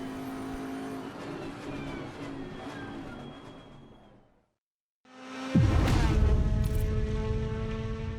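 A racing car on a Nurburgring lap in a racing video game roars loudly, its engine note fading away, dropping to near silence for a moment, then bursting back in with hard acceleration.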